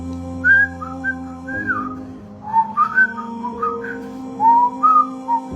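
Someone whistles a meandering tune alone, bright melodic phrases coming in short bursts over a low, steady background hum, with brief pauses between the phrases.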